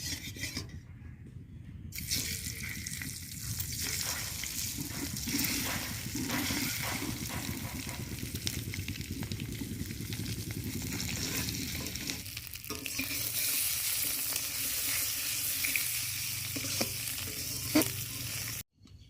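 Eggs frying in oil for a village-style grandmother's egg bhuna curry: a loud, close, continuous sizzle with scraping stirring strokes running throughout, and no voices.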